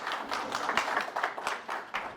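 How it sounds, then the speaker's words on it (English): Brief burst of audience clapping for a speaker at a smart-region talk, a scattered patter of hands from a modest crowd, moderately near and fading quickly. "So applause for Jiří Nantl."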